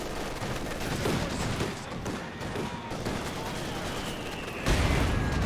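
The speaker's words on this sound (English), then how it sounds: "Big mortar shots there." Dense battlefield din from Company of Heroes 2, with mortar shots and scattered gunfire over continuous rumble, louder toward the end, with a commentator talking over it.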